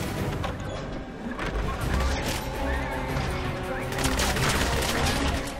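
Gunfire in the video game 007 Legends: rapid bursts of shots and a dense fusillade run throughout, loud and close, mixed with game sounds and a voice talking over the action.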